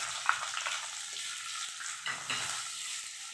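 Chopped onion and green chillies frying in hot oil with cumin and curry leaves, a continuous bright hiss and sizzle up close, with a few soft stirring scrapes and no voices.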